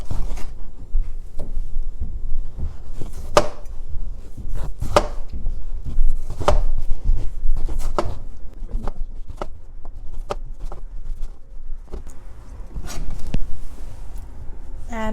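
A knife chopping tomatoes on a cutting board for attieke, a series of sharp, close, irregular thuds and taps with quiet shuffling between cuts and a voice briefly speaking.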